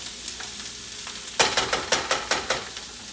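Chicken sizzles in olive oil in a frying pan, a low steady fry that turns into a series of rhythmic stirring scrapes and sizzle bursts, close and fairly loud.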